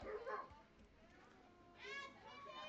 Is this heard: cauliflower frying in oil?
no